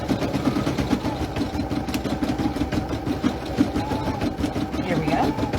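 A multi-needle embroidery machine stitching, a fast, even mechanical patter repeating steadily at close range, with a person speaking over it.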